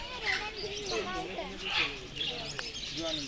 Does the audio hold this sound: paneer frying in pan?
no